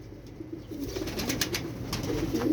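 A domestic breeding pigeon coos softly in a repeated low call, nearby and fairly quiet, with faint chirps and background noise around it.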